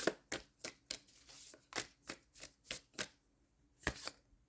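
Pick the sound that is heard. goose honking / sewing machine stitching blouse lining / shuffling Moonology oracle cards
shuffling Moonology oracle cards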